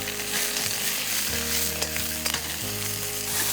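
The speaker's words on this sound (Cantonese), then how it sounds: "就將上嗰份龍蝦咧就擺落去爆啦。" Lobster pieces deep-frying in peanut oil in a wok, a loud steady sizzle with bursts of crackle as the oil churns, close and continuous with no voices.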